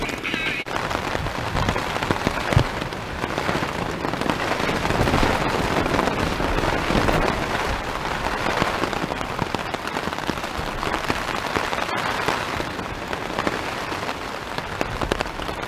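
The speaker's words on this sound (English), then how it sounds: "coffee, pouring rain, high winds, and Blondie on the iPod" Pouring rain drums on a tent during a windy wild camp on Dartmoor near Grey Wethers and Teignhead Farm. The close, dense patter and crackle is steady throughout, with no one speaking.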